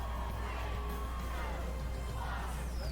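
A large crowd screaming and cheering in a film's London finale, a continuous distant roar of many voices with scattered higher yells, fairly faint.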